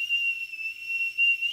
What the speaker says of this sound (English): Got the tooth in, look, but suddenly developed a silly little whistles